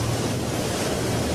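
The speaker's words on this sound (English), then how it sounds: "If they occur under the ocean, they can generate killer waves called tsunamis." Ocean waves used as a tsunami sound effect: a steady, unbroken roar of surf with deep rumbling body and wind-like hiss, loud and continuous throughout.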